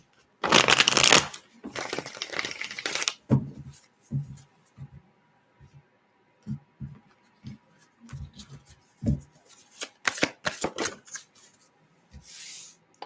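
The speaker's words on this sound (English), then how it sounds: "One more shuffle." Tarot cards are shuffled up close, with long riffling bursts at the start followed by a scatter of short taps and slides as the deck is handled and cut.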